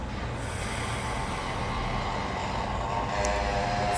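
Steady rushing exhale through the right nostril during alternate-nostril yoga breathing, a continuous breathy airflow lasting the whole stretch with no talking.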